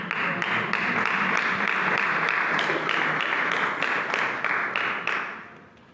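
An audience claps steadily and loudly at a religious gathering, a dense, sustained applause that carries on for several seconds before fading out at the end.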